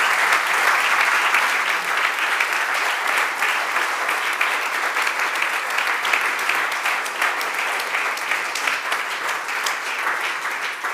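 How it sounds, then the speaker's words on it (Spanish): Sustained audience applause for artists at a cultural gathering on cinema and architecture, a dense wash of many hands clapping steadily and loudly for the whole stretch without a break. "Así que aplaudo a nuestros artistas."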